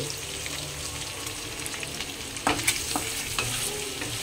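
Pork steak fries in a pan with a steady sizzle, broken near the end by a few sharp spitting pops and scraping stirs, close up, with no talking.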